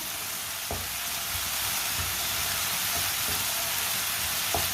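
Radish and tomato curry sizzles steadily in a pan, a constant frying hiss with soft, occasional spoon scrapes and taps as it is stirred, close and moderately loud with no talking.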